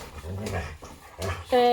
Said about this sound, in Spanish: Si oís eso, son mis perros peleándose aquí jugando.